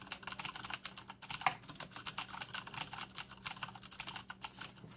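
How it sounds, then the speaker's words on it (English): Steady, fast typing on a Corsair K70 mechanical keyboard with Cherry MX Blue switches, a continuous run of crisp clicky keystrokes close up with no talk. "As you can see from the sound in the background, it's easily one of my top choices for best typing keyboards."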